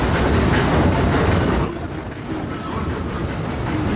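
The Disneyland Railroad train, Ernest S. Marsh locomotive, rumbles steadily along the rails, a loud continuous roar that eases slightly partway through, then carries on at a lower, even level.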